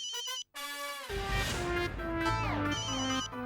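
A bright electronic mobile phone ringtone melody chimes over and over with a steady repeating pattern, loud and close, with no talking.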